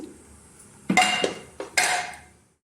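Cooked beetroot stir-fry being mixed in a pot, heard as a few distinct metal clanks and scrapes of a spoon against the vessel, close and fairly loud, with quiet pauses between.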